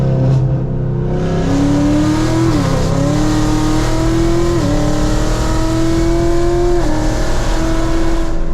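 A 2018 Chevrolet Camaro ZL1 engine revs hard while driving, loud and close, its pitch climbing steadily through the gears with brief dips at shifts and a continuous strong roar throughout.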